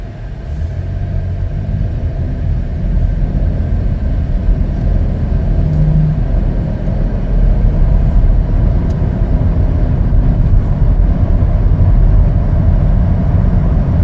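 A 2021 Chevrolet Blazer LT slowing to a stop at a stop sign, heard from inside as a steady low road and engine rumble with constant cabin noise and no distinct brake sounds.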